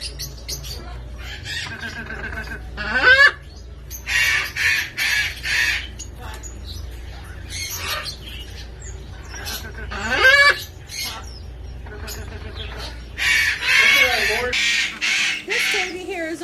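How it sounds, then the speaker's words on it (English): A young Harlequin macaw gives loud, harsh squawks and honking calls in repeated bursts, some short and some drawn out, with a person's voice heard at times between them. "This baby here is a Harlequin macaw."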